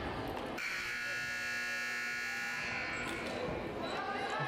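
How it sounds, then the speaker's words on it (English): A loud, sustained electronic timeout buzzer sounds in a high school gym during a volleyball match between Soda Springs and Wendell, lasting a couple of seconds over steady crowd noise. "Timeout buzzer rings."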